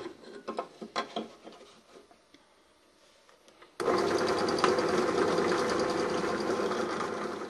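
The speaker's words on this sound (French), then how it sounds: "on va percer avec une mèche de 25, mèche à bois de 25 sur chaque emplacement" A 25 mm wood drill bit boring into material, a sudden loud, steady whirring drone after a few seconds of quieter handling clicks and knocks.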